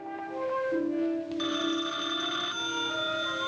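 An old telephone bell rings in a 1950s TV drama scene, a loud, sustained metallic ring that continues without pause and shifts partway through, with no talking over it.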